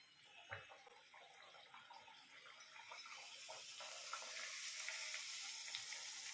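Lentil fritter batter dropped into hot oil, a faint soft hiss that swells into a steady, bright sizzle of frying.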